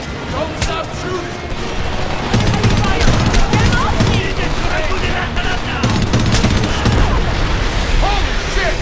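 Sustained automatic gunfire in the Homefront video game, dense rapid bursts with booms layered over one another, loud and continuous, with shouting voices mixed into the battle.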